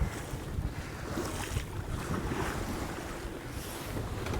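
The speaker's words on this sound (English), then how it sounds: "And we are sailing. No engine, both sails up." A sailboat moves under both sails with no engine along the southern Norwegian coast, giving a steady wash of waves, hull water and wind rushing over the microphone, with no voices.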